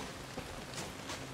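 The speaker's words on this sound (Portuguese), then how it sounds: "Tá chovendo pra caramba." Rain falls steadily in the survival game Soulmask, a soft, even hiss that stays constant and fairly quiet throughout, with no voices.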